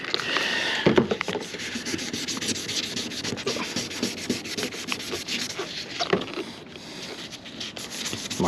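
Steady wet sanding of truck paint with 2500-grit paper and Windex, a continuous close rubbing and scrubbing with rhythmic back-and-forth strokes and no talking.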